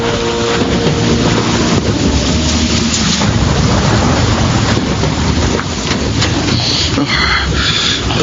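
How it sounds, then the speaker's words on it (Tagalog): Heavy rain as a radio drama sound effect: a dense, loud, unbroken downpour roar filling the whole stretch, with no voices over it. "Ruben, Kuya Nanding, bakit sinugod mong malakas na ulan?"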